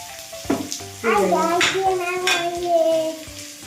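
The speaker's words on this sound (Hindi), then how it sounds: "यहाँ पर मैं मिक्स वेज बना रही हूँ" Mixed vegetables fry in a pan, giving a close, steady sizzle broken by scraping and clinking of a spatula against the metal, with bursts of stirring across a few seconds.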